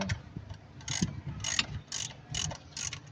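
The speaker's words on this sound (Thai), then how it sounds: "ขันน็อตยึดคอยนะครับ สูบสองกับสาม" A ratchet tightens the ignition coil bolts on cylinders two and three of a Mitsubishi New Lancer that has a faulty coil and a rough-running engine, making about six short, close bursts of rapid clicking with brief pauses between them.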